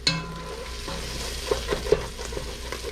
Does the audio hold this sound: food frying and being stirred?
yes